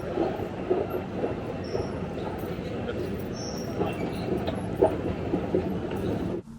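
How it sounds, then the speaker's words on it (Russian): Continuous low rumble and rattling of a London Underground train in motion, with faint squeals and clicks of wheels on track, ending abruptly. "пришло время познакомиться с лондонской подземкой"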